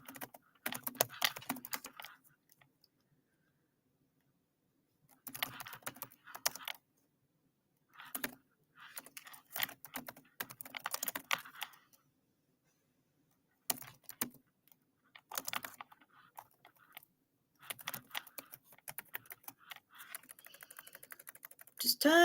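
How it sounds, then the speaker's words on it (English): Computer keyboard typing comes in bursts of rapid close clicks separated by pauses, with a person talking at times between the bursts. "typing right now."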